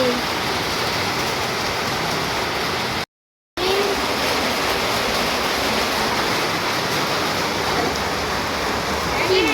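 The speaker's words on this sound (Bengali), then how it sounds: "বাইরে আবার মুসলধারে বৃষ্টি শুরু হয়ে গিয়েছে কি বড় বড় ফোঁটা" Torrential rain with big drops pours down outdoors, a loud continuous roar and patter of water, briefly cut to silence partway through before resuming just as strongly.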